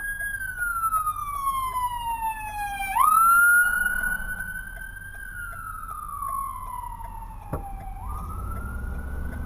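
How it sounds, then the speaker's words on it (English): A wailing siren sweeps down and up in long, loud cycles in Connecticut, heard over steady road rumble from inside a moving car. "You hear sirens, right?"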